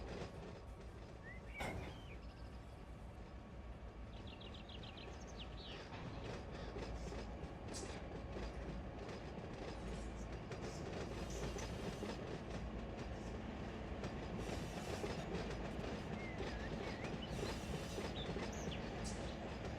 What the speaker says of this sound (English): So this is a supply train